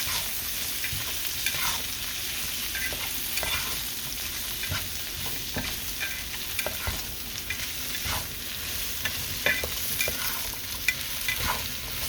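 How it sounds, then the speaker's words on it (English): Beef and vegetables stir frying in a pan, a continuous bright sizzle broken by frequent clicks and scrapes of a utensil tossing the food, close by with no talking over it. "I just want to go ahead and like stir fry it"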